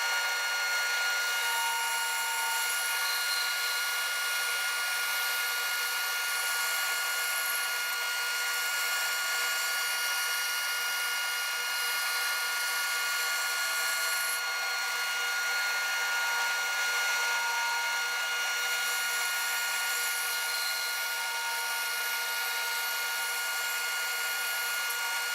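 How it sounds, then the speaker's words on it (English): A power saw cuts thin slices from a laminated wood disc, giving a loud, steady, high whine that holds without pause for the whole stretch, close and with no talking. "I'm ready to cut off the slices on my laminated disc"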